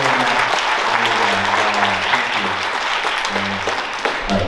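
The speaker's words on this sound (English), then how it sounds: "Let's all just give a round of applause for the Marshall Friends of Music for all the support that they give our students." A school concert audience applauds loudly and steadily, a dense wash of clapping that carries on for several seconds while a few faint voices murmur underneath.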